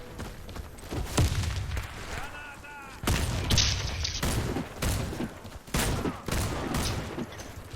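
Grenade explosion in a competitive round-based video game shooter with a bomb objective, a loud booming blast among bursts of gunfire and impacts, with voice callouts heard around it.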